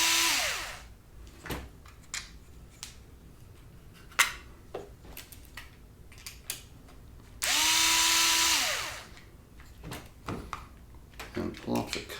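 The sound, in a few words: power tool removing screws from Arrma RC car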